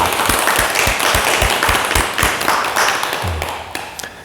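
Audience applause at a meditation talk, a steady wash of hand clapping with distinct individual claps standing out, fairly close and sustained for about four seconds, tapering slightly at the end.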